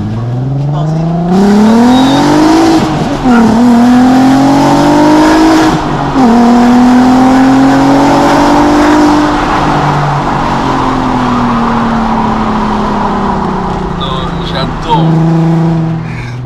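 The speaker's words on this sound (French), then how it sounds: "mais Atmo 6 cylindres avec ce son là, même les BM n'ont pas ce bruit là." A modified Mk5 VW Golf R32 with a naturally aspirated six-cylinder engine revs hard and loud up close in Martinique, its rising and falling engine note swelling repeatedly over about sixteen seconds while someone talks over it.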